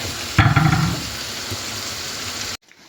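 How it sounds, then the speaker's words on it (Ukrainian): Chopped vegetables frying in sunflower oil for a homemade fry-up crackle with a busy, continuous sizzle close by, briefly louder as the pan is stirred at the start. "роблю на олійці зажарочку"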